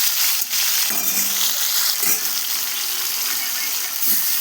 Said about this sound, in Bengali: সবগুলো মাছ আমি কড়া করে এবার ভেজে নেব